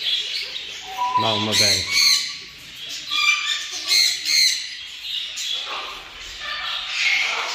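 Parrots and canaries squawk and chirp around their nests in an aviary, with sharp repeated calls close by and someone speaking over the birds throughout.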